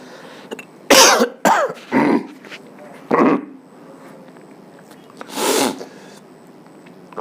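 Several loud, close coughs and throat-clearing bursts come in a cluster early on, followed by one more isolated cough and a later, longer one, with quiet room tone between them.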